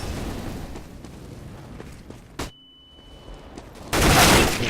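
Counter-Strike: Global Offensive gunfire, Desert Eagle or AK, comes as a sharp single shot, then a brief hush with a thin tone, then a loud burst of blasts near the end, with no voices.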